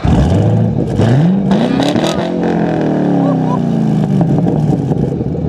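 A 2012 Chevy Camaro ZL1 engine cranks with a key, catches and roars, its pitch sweeping up in a loud rev and settling into a rumbling idle close by, with voices over it.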